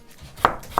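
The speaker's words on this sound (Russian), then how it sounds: "А теперь нарежем репчатый лук обязательно." A knife chops an onion on a board with two sharp, close taps about a third of a second apart. There is soft background noise and no voices.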